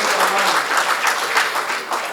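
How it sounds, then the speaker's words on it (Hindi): An audience at a Hindi comic poetry gathering (hasya kavi sammelan) bursts into loud, close applause, a thick steady patter of many hands with no speech over it. "तो एक बार तालियां बजाए"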